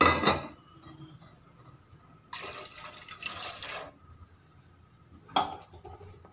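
Water is poured from a tumbler into a cooking pot while kuska rice is prepared, giving short splashing bursts at the start, middle and end. The pouring is close and moderately loud, with light clinks of the pot.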